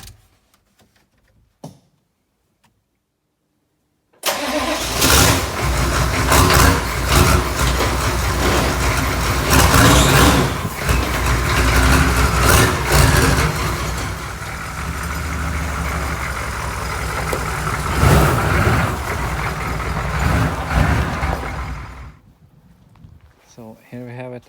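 A Squarebody Suburban with a turbo diesel engine and a manual 4-speed starts up and drives out, its engine loud and steady for about eighteen seconds before dropping off.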